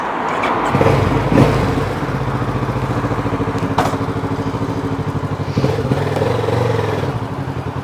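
A 2022 Kawasaki Z650 motorcycle rides off close by, its engine running loud and steady with a pulsing idle-to-throttle rumble and a few clunks, and no talk.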